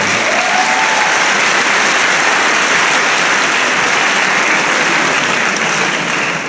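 Large audience at a French baccalaureate graduation ceremony clapping loudly and continuously in a dense, even wash of applause that holds for several seconds and only slightly tapers at the end.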